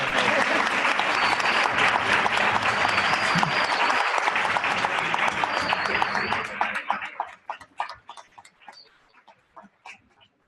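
Students at IES Blas Infante secondary school in Córdoba applaud during a talk on women astronomers and astrophysicists: sustained, dense clapping for about seven seconds, then fading into a few scattered, separate claps before quiet.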